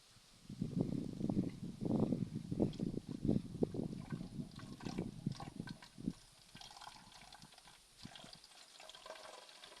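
Coconut water splashes and gurgles as it is poured into a container, a burbling stream for several seconds that then tapers off into quiet.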